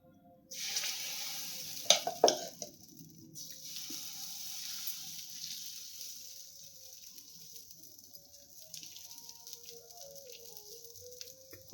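Mung bean pesarattu dosa batter hits a hot pan and sizzles, a soft steady frying hiss with a few sharper crackles early on, fairly faint and close with no talk.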